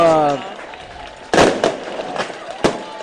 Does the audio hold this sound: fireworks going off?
yes